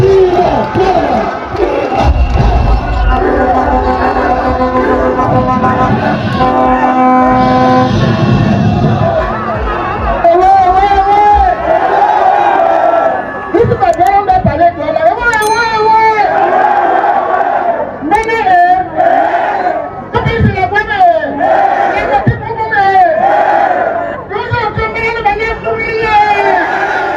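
Large crowd roaring and cheering at a political campaign meeting, a dense, loud wall of voices and shouts that swells and surges throughout, with babble and bellowing calls over the top.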